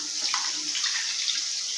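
Water is poured from a cup into a pan of powdered jaggery, a steady close splashing trickle with no voices.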